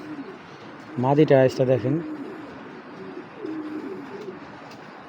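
A pair of Pakistani Golden pigeons coos in a loft, with one burst of throaty, warbling coos followed by softer, fainter murmurs. Someone speaks nearby between the calls.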